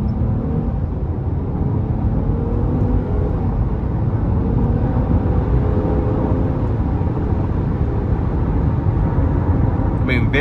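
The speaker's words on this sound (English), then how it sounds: "Let's give it some throttle here." A 2018 Nissan Murano S AWD with the 3.5 V6 and CVT, at 71,000 miles, pulls under throttle with a steady, loud engine and road rumble throughout, heard from inside the cabin.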